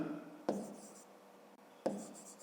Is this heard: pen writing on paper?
yes